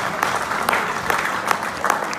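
An audience claps steadily in a dense burst of applause at a leadership training session, the clapping close and continuous throughout.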